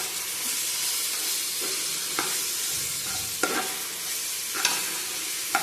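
Ginger garlic paste being sautéed in a pan for chicken biryani, with a steady close sizzle and frying hiss broken by several short scraping stirs of a spoon, no talking.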